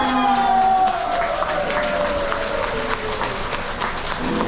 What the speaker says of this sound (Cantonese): 以最熱烈嘅掌聲同埋歡呼聲，去邀請我哋一對新人進場